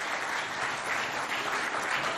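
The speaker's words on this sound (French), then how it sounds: "Merci de vous applaudir encore bien fort" An audience applauds at a school quiz event, with a continuous, even wash of clapping from many hands that holds steady at moderate volume with no talk over it.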